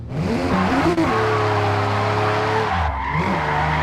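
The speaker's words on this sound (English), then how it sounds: "Now we can maintain the drift." In the Forza Horizon 6 video game, a car drifts with loud, sustained tire skidding over a revving engine whose pitch rises and falls. The squeal holds steady for several seconds, then the engine dips and surges again.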